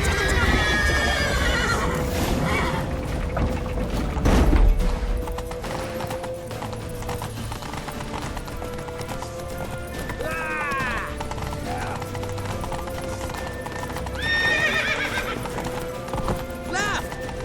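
Rhythmic hoof clip-clop from a galloping horse in The Witcher 3 video game, with loud whinnies now and then and mechanical clatter underneath.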